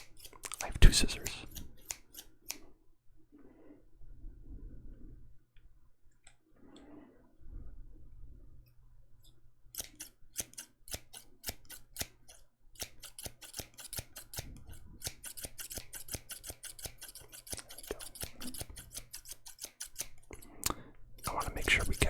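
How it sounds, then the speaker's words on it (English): Sharp, rapid snipping of scissors in bursts, close to the mic, with soft whispered talk in quieter stretches between the cuts. "I want to make sure we get the sounds of the snipping as well as the visuals."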